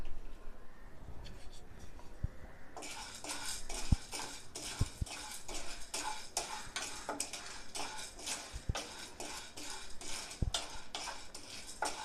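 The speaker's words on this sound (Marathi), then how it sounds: "तर आपण चण्याची डाळ भाजून घेऊया." Split chickpeas (chana dal) dry-roasting in a pan for a village-style masala, with steady crackle and rattle and repeated clinks of a metal spoon stirring against the pan, no talk.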